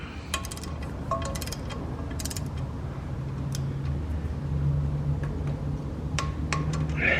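A torque wrench tightens the foot peg bolts on a Yamaha TTR110 pit bike: a handful of sharp metallic clicks at irregular moments over a low, steady background rumble.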